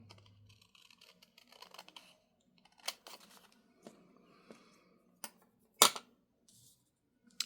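Paper is cut by hand with scissors for a craft project: quiet, irregular snips and rustles, with a few sharper clicks and one louder snap near the end.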